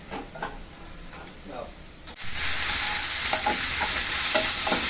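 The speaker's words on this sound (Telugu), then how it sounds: "ఇలా మొత్తం కూడా డ్రై అయిపోయినట్టు వేగాలి" Methi leaves are fried and stirred in a pan until dry. A few soft stirring scrapes come first, then a loud, steady sizzle swells up and keeps hissing with occasional spatula scrapes over it.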